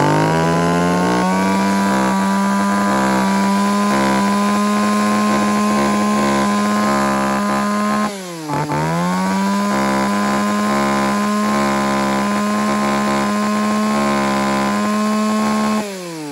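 A Stihl, Echo or Shindaiwa chainsaw engine drones loud and close at steady idle, briefly dipping and revving back up midway before settling into the same buzzing hum.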